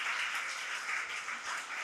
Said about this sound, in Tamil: ஒரு கைத்தட்டு கொடுத்து கர்த்தருக்கு ஒரு மகிமை சொல்லு